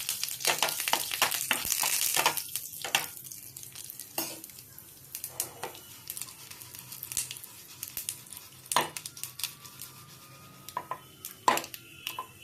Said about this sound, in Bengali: বিউলির ডাল দিয়েছি, দিয়ে দুটো শুকনো লঙ্কা দিয়েছি, একটু কারি পাতা দিয়ে ফোড়ন দিয়েছি।